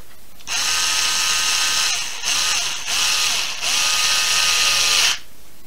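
A cordless screwdriver drives screws into plastic parts of a Maverick Phantom XT: a steady high-pitched motor whine runs in four bursts, with short pauses between them, close and loud.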